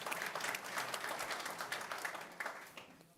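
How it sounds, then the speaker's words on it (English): Lecture audience applauding steadily and fairly close, a dense wash of hand claps that carries for about three seconds before thinning out at the end. "Not supposed to clap for disaster, you know."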